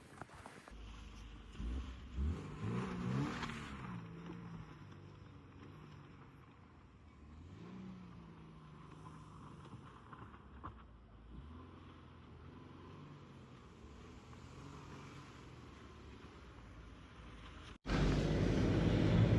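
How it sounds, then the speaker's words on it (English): A Subaru sliding sideways on winter snow, its engine revving and rising in pitch as the car moves, heard from inside without talk, ending in a sudden louder rush of noise. "We got a couple good slides in."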